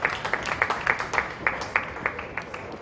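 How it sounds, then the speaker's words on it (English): Applause at an outdoor polo match for both teams, a light scattered crowd clapping with distinct individual claps in an uneven rhythm, fairly near and modest in volume. "let's give another round of applause to both teams"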